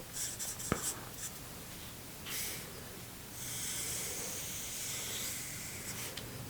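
A pencil scratches and sweeps across paper while a football-themed figure is being sketched, a soft, close, continuous hiss of strokes with a few brief lighter taps.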